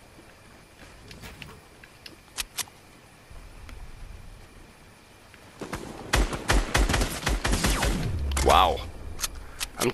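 Weapon fire burst in a Fortnite Arena match: a few sharp shots early, then a dense rapid burst of gunfire with game effects, under a player's brief exclamation.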